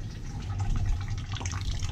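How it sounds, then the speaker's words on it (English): Water draining from a plugged boiler steam return, a steady low gurgling trickle with faint drips, close and continuous for under two seconds. "That's still draining a little bit."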